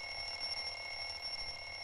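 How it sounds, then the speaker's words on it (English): Electronic alarm clock ringing in the video game Bully, a steady sustained beeping tone that carries on at moderate level throughout, with no talk over it. "Alright, you hear the alarm? It's time to get up and do the damn thing."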